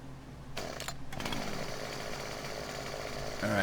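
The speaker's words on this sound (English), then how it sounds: "There's a chainsaw." A chainsaw runs in the video game Farming Simulator 17 on the Newlin Texas map, cutting trees. It revs up after a short pause and holds a loud, steady, buzzing drone to the end.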